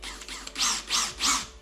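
A power drill with a 3/16 bit bores holes in drywall: three whirring bursts rise and fall in quick succession, close by, with no speech.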